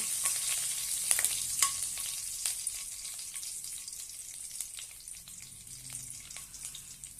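Curry leaves frying in hot oil for a pumpkin bhaji, with a steady soft hiss and scattered crackling pops close up, the occasional stir audible, no voices.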